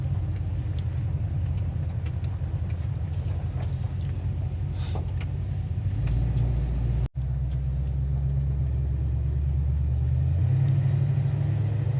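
A 1969 Chevelle V8 engine idles with a steady low rumble close by, deepening briefly partway through before settling back into an even idle.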